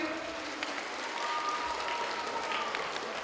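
Audience applause at a children's tournament event honoring sponsors, a steady dense wash of clapping from a crowd, moderately loud and sustained throughout with no talk over it.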